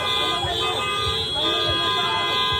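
Car horns honk repeatedly on a busy city street in Chicago, steady and loud over traffic noise, with voices talking nearby.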